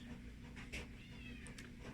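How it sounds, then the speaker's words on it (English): A house cat meowing faintly a couple of times over a low steady background hum, the complaints short and somewhat distant. "my cat is complaining."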